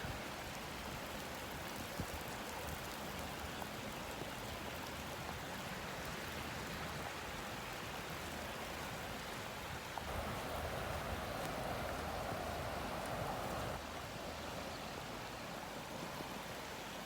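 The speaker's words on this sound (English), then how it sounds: "it is still pouring with rain" Heavy rain pouring down steadily over a flooding orchard, a dense, unbroken hiss of water that stays loud and even throughout with no voices.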